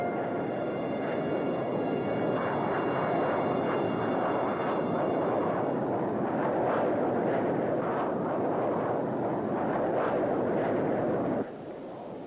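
A jet aircraft engine at high throttle roars loud and continuous, a dense broadband rush that holds steady for several seconds before dropping off slightly at the end, with no talk.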